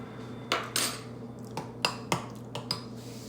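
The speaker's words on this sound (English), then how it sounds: "get a spoon out" Metal cutlery clatters close by as a spoon is pulled from a drawer or holder, with a series of sharp clinks and rattles spread across a few seconds in an otherwise quiet kitchen.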